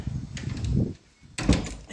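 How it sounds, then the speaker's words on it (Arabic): A door is pushed shut against strong wind outdoors, a rumbling gusty rush followed by a short quiet gap and then a loud scraping, rattling close. "هذا مكان كاينه ريح قويه وقلا راح نغلق راح نغلق قبل الباب"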